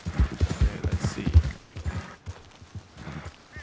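Horse hooves clip-clop at a steady walking rhythm in the Red Dead Redemption II western game, close and fairly loud, with a brief lull midway before the footfalls resume.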